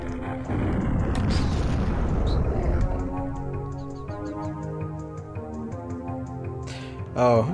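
A grenade explodes in the video game Turok: Dinosaur Hunter, a loud booming blast with a rumbling decay that gives way to tonal game sounds, and a second sharp burst comes at the end.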